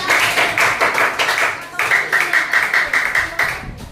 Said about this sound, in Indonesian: tepuk tangan dulu buat Atun